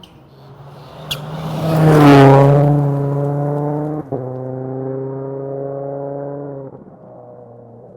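David Higgins's Subaru Rally Team USA car roars past on a gravel stage, its engine swelling loudly as it nears, then holding a steady droning note as it pulls away.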